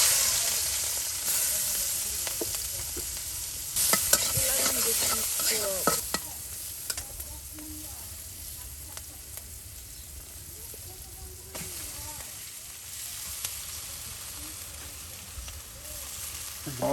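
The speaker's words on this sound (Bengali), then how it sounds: "অল্প সময়ের মধ্যে এই আলুগুলো একদম ভাজা ভাজা হয়ে যাবে।" Potatoes fry in a pan, with a steady sizzle and recurring scrapes and clatters as they are stirred, louder bursts of activity early on, then quieter frying with occasional knocks.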